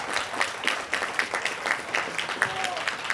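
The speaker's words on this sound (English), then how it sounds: "he deserves a big round of applause" Brief scattered applause from a small crowd, light hand claps at an uneven pace, fairly close.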